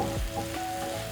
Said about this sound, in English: Then I'm going to add my onions. So you're going to saute until soft.